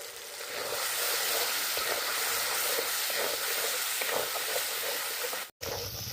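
Cashew and sesame paste thinned with water goes into sizzling fried masala for a papaya and paneer curry, making a continuous, fairly soft sizzle that cuts off abruptly near the end, with no voices.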